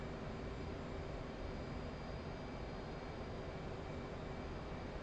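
An F/A-18C Hornet jet flies in the DCS World flight simulator, its engine a loud, constant, even roar with a faint steady whine that never changes from start to finish.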